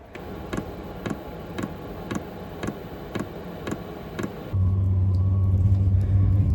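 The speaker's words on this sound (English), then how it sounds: "the fan's starting up, the fuel pump's just kicked in" A steady series of ticking clicks over a low mechanical rumble, then a louder constant droning hum as a diesel heater's fan and fuel pump start running in a van.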